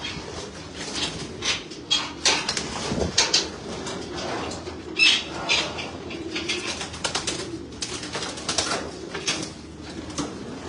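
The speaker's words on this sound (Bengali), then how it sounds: "এখন 3টা কবুতর ছাড়বো বাইরে ছাদ চিরানোর উদ্দেশ্যে" Pigeons, kept as racing birds on a rooftop loft, coo in a busy, overlapping flock with occasional wing flaps and fluttering as some are let out, steady and fairly close throughout with no talking.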